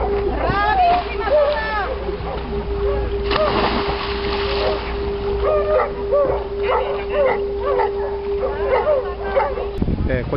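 Rescue dogs bark in short, repeated yelps at a lake demonstration on Lake Como's Lecco shore, with a steady engine-like hum and people talking over much of it.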